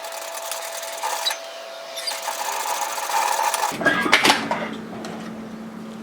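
Sewing machine running along a 6mm (1/4 inch) seam on a Molly yoke sweater, a short steady whir that stops partway with a few handling clunks after.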